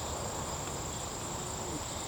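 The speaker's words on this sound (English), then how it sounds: "A lot of bees." Honey bees crowd a hive frame during an inspection, their dense, steady hum filling the air without a break, close and even throughout.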